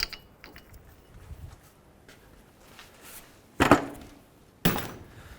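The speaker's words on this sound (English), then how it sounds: "which means we can loosen our axle nut" A wrench loosens the axle nut on a 2011-2017 Honda Odyssey front hub: faint ratcheting clicks, then two sharp, loud metallic bangs about a second apart, close by.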